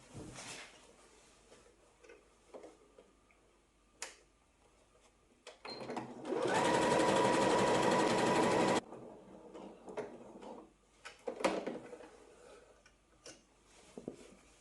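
A sewing machine stitches a pocket onto a wax-print fabric half-circle skirt in one loud, steady burst of about two seconds, with quiet handling clicks and taps before and after.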